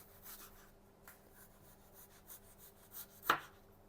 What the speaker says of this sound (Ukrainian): Нарізаю соломкою.